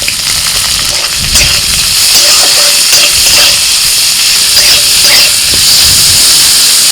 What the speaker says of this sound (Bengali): রসুনটা একটু ভেজে নিয়ে দিচ্ছি পেঁয়াজ কুচি